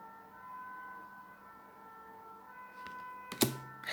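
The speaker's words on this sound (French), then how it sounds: "C'était quoi ça, l'ambulance ou les flics, hein?" Siren of an ambulance or police car sounding faintly in the background as a steady tone, with a sharp louder burst of noise near the end and no speech.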